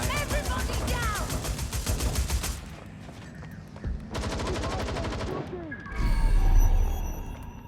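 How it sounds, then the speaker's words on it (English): In the video game Watch Dogs Legion, rapid automatic gunfire rattles in long sustained bursts with a few pauses and a heavier burst near the end, loud and close, mixed with game voices. "It sounds like gunfire."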